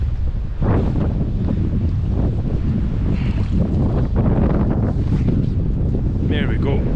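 Steady wind buffeting the microphone on the bank of the River Spey at Arndilly on a February salmon-fishing outing, a continuous low rumble with gusts, overlaid by someone talking close by.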